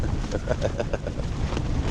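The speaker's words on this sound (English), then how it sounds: "that's pretty windy" Heavy wind buffets the microphone in a low, continuous roar with rapid gusty fluctuations, brief and fairly quiet overall.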